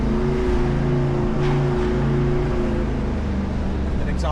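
A 392 Jeep crawls up a steep 23-foot dirt hill at Camp Jeep during the LA Auto Show, its exhaust giving a low, steady, burbling rumble close by.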